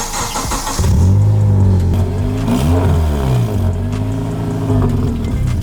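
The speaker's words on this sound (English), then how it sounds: "It's kind of burbling and popping and sounding like a tractor throughout there." An Acura TSX (CL9) engine idles roughly nearby, burbling and lumpy like a tractor, with a rev rising and falling midway and irregular popping from the exhaust throughout.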